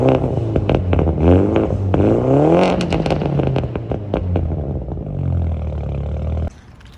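A BMW F30 with a secondary cat-back exhaust and no resonator or muffler, revved close up: a loud, raspy roar that climbs and falls through several throttle blips, with crackles before cutting off sharply.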